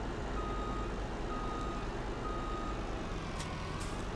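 A truck in Farming Simulator 19 reverses to hook up a trailer, giving a steady series of faint, evenly spaced electronic backup beeps over a constant low engine rumble.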